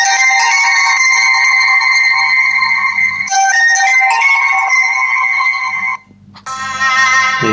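A song plays through the small built-in speaker of a Rogbid Tank S3 smartwatch, thin and tinny with sustained melodic tones, briefly cutting out near the end before resuming, with no talking over it.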